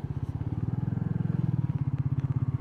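A Royal Enfield Meteor 350 motorcycle ridden through the lower part of a hillside Spanish town, its single-cylinder engine thumping in a steady, even rhythm, loud and close throughout.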